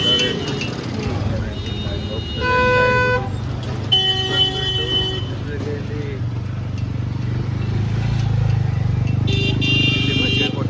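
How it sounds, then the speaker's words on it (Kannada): Heavy road traffic in a jam, with repeated car and motorcycle horn toots over a steady engine rumble, close by and fairly loud, with faint voices in the mix. "ಇಲ್ಲಿ ಟ್ರಾಫಿಕ್ ಜಾಮ್ ಆಗಿಬಿಟ್ಟಿದೆ."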